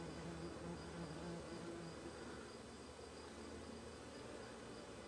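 Bees swarming around an open hive during robbing season, a continuous faint buzzing hum of many insects close by, with no talk.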